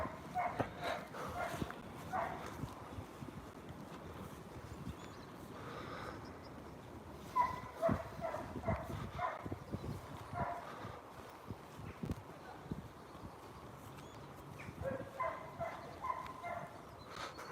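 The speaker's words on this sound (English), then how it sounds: "If that dog weren't barking, it'd sound really peaceful here." Dogs bark outdoors on a dark hillside evening, intermittent barks scattered at a distance over quiet outdoor ambience, fairly faint and coming in irregular bursts.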